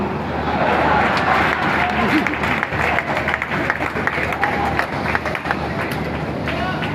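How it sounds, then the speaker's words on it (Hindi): Dense, steady clapping from a large audience at a Hindi poetry recital (kavi sammelan) in Sonkatch, Dewas, holding at a loud, even level for about seven seconds, with crowd murmur mixed in. "कुछ लोग तो ऐसे ताली पीट रहे जैसे छाती पीट रहे हो।"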